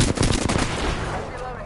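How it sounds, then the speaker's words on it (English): Rapid automatic gunfire from the video game Apex Legends crackles in a fast burst of close, loud shots, then fades into a ringing tail. "Oh, this guy's shooting right now."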